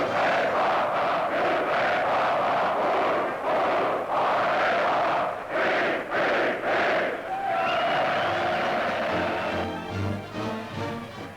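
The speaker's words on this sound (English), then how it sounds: "they cheer just as heartily for one team as the other" A large crowd at an Army-Navy American football game at the Sydney Sports Ground roars and cheers in repeated surging waves, loud and close, with a shift toward brassy band-like tones near the end.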